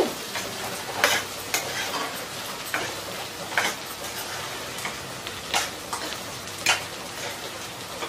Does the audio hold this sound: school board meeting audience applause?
no